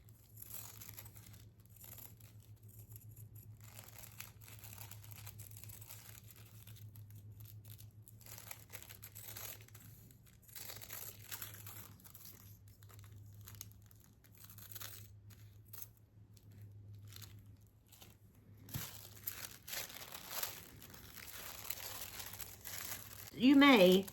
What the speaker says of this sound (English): Go ahead and cut these pieces out.